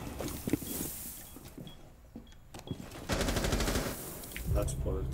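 Gunfire in the tactical shooter Rainbow Six Siege, scattered shots and bursts then a sustained rattling volley near the end, mixed with game noise and brief voice chatter.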